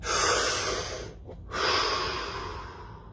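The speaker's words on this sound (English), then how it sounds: "Deep breath." A deep breath during a breathing-practice session: a loud, airy inhale, a brief pause, then a long hissing exhale, close to the microphone with no talk.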